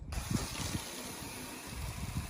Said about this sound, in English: so we'll just rinse the car.